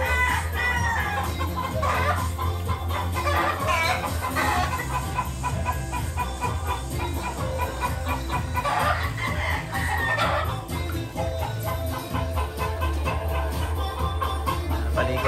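Chickens cluck and a rooster crows at a fowl farm in Maragondon, Cavite, where the birds are being bathed; the calls repeat loudly and close, overlapping through the whole stretch.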